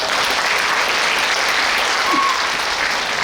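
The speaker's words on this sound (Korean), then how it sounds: "손은설 사회자님을 큰 박수로 맞아주시기 바랍니다." An audience at a book concert in Suncheon, Korea claps to welcome the event's host, a continuous, even round of applause at close range with no talking.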